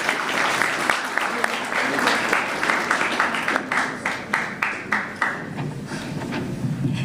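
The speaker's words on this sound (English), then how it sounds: "Give a round of applause." Applause from delegates and guests at a closing-day Model UN general assembly, a steady wash of many hands clapping for several seconds, fairly loud and close, with distinct individual claps standing out near the end.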